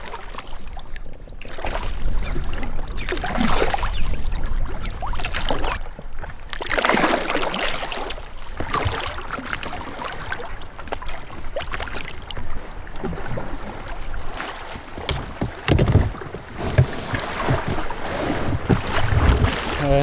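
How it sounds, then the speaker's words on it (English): Wind buffets the microphone while a kayak is paddled across a remote Scandinavian lake, a steady loud rushing with gusty surges and faint water splashes throughout, no talk. "But first I have to fight here against the wind"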